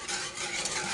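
A spoon stirs sugar into a banana pudding mixture, a brief, soft scraping swish of about a second, close by and fairly quiet, without any voice.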